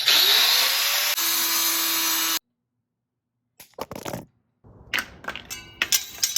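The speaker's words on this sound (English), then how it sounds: "So just cut that off with the angle grinder and it'll pop right off." Angle grinder cutting through a plastic fender flare on a Toyota 4Runner, a loud continuous whining grind that runs for about two seconds, stops abruptly, and gives way to brief clattering and scraping handling noises nearby.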